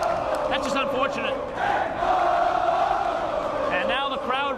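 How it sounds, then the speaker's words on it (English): Crowd noise at a high school boys basketball game, a steady roar of voices with whoops and shouts rising and falling throughout, dense and continuous with no clear pauses. "And now the crowd really into it."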